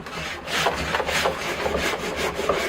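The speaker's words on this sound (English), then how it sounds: "I'll get my saw and I'll do it outside, and I'll just come in and saw that root off" A hand saw rasping back and forth through a white ash bonsai tree root in a steady rhythm, close and continuous, each stroke a gritty scraping sweep.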